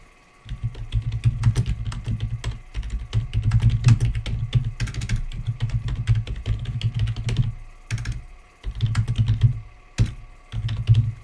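Rapid keystrokes clatter on a computer keyboard in uneven bursts, close and crisp, with brief pauses between flurries of typing.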